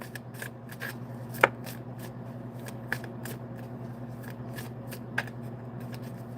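Tarot cards being shuffled and drawn during a reading, a steady run of soft riffling flicks with a few sharper snaps, close and fairly quiet over a constant low hum, with no talking.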